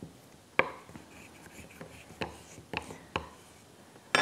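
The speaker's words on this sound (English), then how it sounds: "we're going to be rubbing it with a spoon to transfer the ink onto" A spoon rubs freezer paper against a piece of wood to transfer ink, giving faint scratchy strokes and a few sharper scrapes and taps spread over a few seconds in a quiet room.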